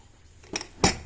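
A metal pressure cooker of chicken, finished after four whistles, has its lid worked open: two short metallic clanks, the second louder and sharper, with no talking, in a quiet home kitchen.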